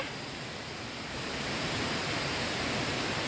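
Pha Tat Waterfall at Thong Pha Phum in Kanchanaburi pours in a steady, dense roar of falling water. The rushing is loud and close and stays constant throughout, with no talking.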